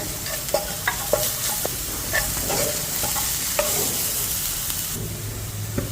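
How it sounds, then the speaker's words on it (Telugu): Chopped onion with salt frying in oil toward golden brown, a steady sizzle under repeated sharp clicks and scrapes of a stirring spoon against the pan, close and without talk. "చిన్నగా కట్ చేసుకున్న 1 బిగ్ సైజ్ ఆనియన్ వేసి లైట్ గోల్డెన్ బ్రౌన్ కలర్ వచ్చేంత వరకు ఫ్రై చేయండి"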